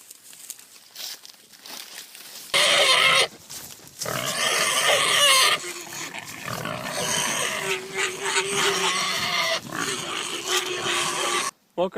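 Pigs rooting and grunting on a farm where they clear briar-covered ground, with rustling and crinkling as vegetation is torn up, and a voice speaking faintly at times through the steady racket.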